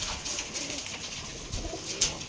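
Rajshahi Giribaz pigeons cooing in a loft, soft repeated low coos over faint background noise, with a brighter sharp sound near the end.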